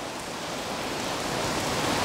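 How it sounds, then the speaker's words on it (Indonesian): Very heavy rain pouring down steadily, a dense, even hiss of falling water that fills the background and swells slightly louder over two seconds, with no voices. "Ini hujan yang sangat deras ya."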